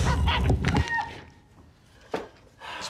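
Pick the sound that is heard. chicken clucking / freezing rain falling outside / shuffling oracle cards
chicken clucking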